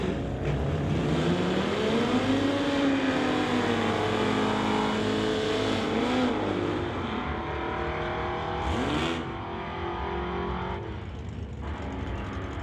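Engines roar at a drag strip launch between a 1986 Corvette and a 1983 Ford, with rising and falling revs sweeping upward and a steady loud rumble that fades slightly toward the end.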